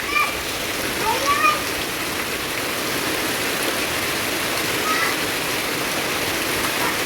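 Heavy rain pours down steadily in a dense, continuous hiss along with wind, with a few faint background voices now and then.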